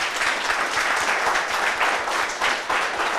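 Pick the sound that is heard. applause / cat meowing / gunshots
applause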